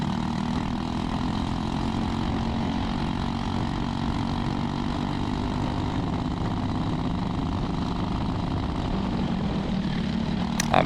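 A racing kart engine in the 206 senior class drones continuously at a steady loud level throughout, a dense buzzing roar with no speech.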